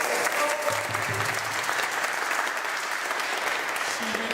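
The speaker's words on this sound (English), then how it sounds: "can we have a round of applause?" Steady applause from an audience at a city Native American Heritage Month celebration in Providence, sustained and fairly loud throughout with dense clapping and no break.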